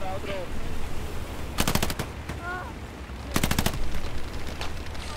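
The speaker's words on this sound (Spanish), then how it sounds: "¡Ametralladora en el búnker de las 9!" Machine-gun fire from a bunker in the World War II shooter game Hell Let Loose, two sharp rapid bursts of shots cutting through a battlefield din, with shouted voices in between.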